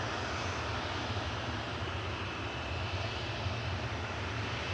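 Steady broadband jet engine roar from a Boeing 737-800 departing for Menorca, a constant heavy rumble and hiss with no break in level throughout.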